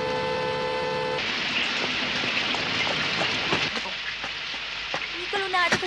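Steady rain falling, a dense continuous hiss with scattered patters and drips, preceded by a brief held musical tone at the start and faint clinks toward the end.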